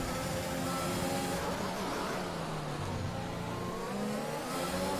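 A Formula 1 car engine in the F1 2021 video game revs loud and close at the Monaco GP, its pitch rising and falling continuously without a break.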